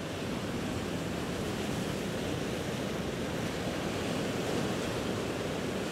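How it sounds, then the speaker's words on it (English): Ocean waves crash on a palm-lined beach at sunset as the tide comes in, a steady, full wash of surf noise holding at one level throughout with no distinct breaks or voices. "the only sounds you can hear are the crashing waves,"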